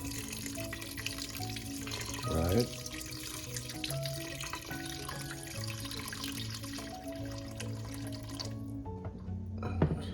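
Tap water pours steadily into a pot of braising beef flank, a continuous splashing stream with a brief gurgling burst, ending as the flow stops; a voice speaks briefly.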